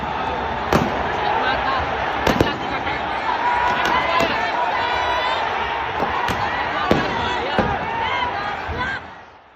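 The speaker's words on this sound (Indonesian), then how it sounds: "Ada 11 tembakan dilakukan Brimob pada fase awal ini." Several sharp, sudden bangs of police tear gas launchers ring out at irregular intervals over a loud, constant football stadium crowd roar with shouting, at Kanjuruhan Stadium.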